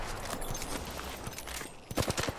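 Rapid gunfire in the Apex Legends battle royale shooter, a dense burst of shots through the first seconds, then a louder, sharper cluster of separate cracks near the end.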